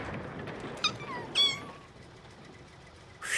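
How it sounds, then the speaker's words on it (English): A cartoon cat, found alongside her kittens in a Thomas & Friends episode, gives two short, fairly quiet meows over a soft background hiss, followed by a brief higher squeak at the end. "The cat and the kittens were safe."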